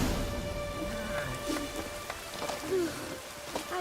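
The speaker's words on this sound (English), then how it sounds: "It's raining." Steady rain patters in the fantasy game The Witcher 3: Wild Hunt, a continuous soft hiss with scattered drop ticks, fairly faint and heard alone.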